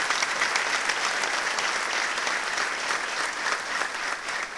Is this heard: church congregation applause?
yes